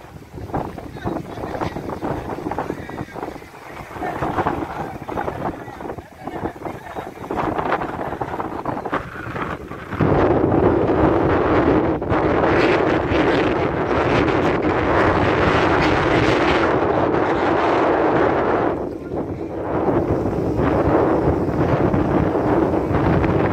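Cyclone-force wind roaring at Pamban on the coast during Cyclone Burevi, a loud, continuous buffeting rush hitting the microphone hard and growing stronger partway through, with people's voices audible beneath it.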